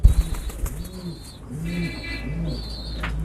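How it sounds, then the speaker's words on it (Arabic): A young squab from a French meat pigeon line is handled, with a burst of wing flaps at the start followed by repeated soft, low cooing close by. "انا هوريك دلوقتي زغلول من الانتاج، زغلول جيل اول"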